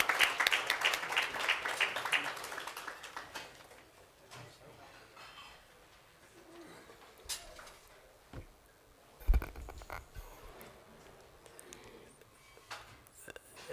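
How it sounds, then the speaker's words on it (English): A crowd at a portal launch event claps loudly for the first couple of seconds, then the applause fades into scattered claps, clicks and light handling knocks. "Let's give Mr. Makala a big round of applause as he is joining me."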